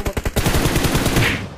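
Rapid automatic gunfire in a video game, a loud, close burst of evenly spaced shots that rattles on without pause.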